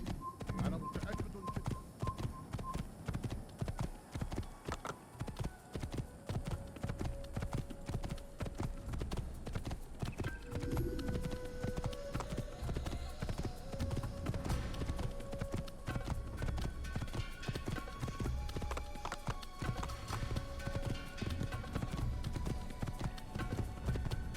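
Hooves clip-clop steadily on a horse in the video game Assassin's Creed, a running rhythmic clatter that continues throughout beside scattered game sounds, with a person talking over it.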